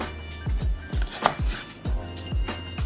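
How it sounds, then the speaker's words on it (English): A knife chops food into small pieces on a cutting board, with about a dozen crisp, close knocks in a quick, uneven rhythm and no talking. "You're gonna need to try to cut it small, so one little piece like that,"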